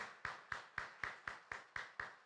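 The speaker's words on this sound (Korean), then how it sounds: "우리 박수로 우리 같이 사랑하겠습니다" A steady run of eight evenly spaced hand claps sounds at a moderate, even pace. The claps come from a church congregation applauding a bereaved family, are faint and heard alone with no talking.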